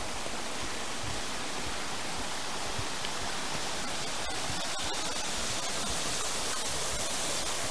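Water rushing steadily down a mountain stream through a field in Germany, a loud continuous broadband roar with no talk.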